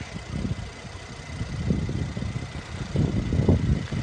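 A luxury car engine idles steadily with a low, even rumble, close by and alone with no talking, in an Audi A7 Prestige S Line or Mercedes-Benz CLS400.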